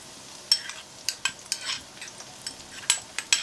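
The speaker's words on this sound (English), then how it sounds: "Add the boiled and mashed shallot paste to the pan in 2 batches and stir it for about 2 to 3 minutes" A spoon or spatula stirs shallot paste, boiled and mashed, frying in a pan for an Indian lobster korma, giving irregular scraping clinks and soft sizzle bursts at close range with no voices.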